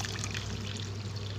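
Water poured from a half-litre vessel into a pot to make gulab jamun sugar syrup, a short continuous close splashing pour with no talk.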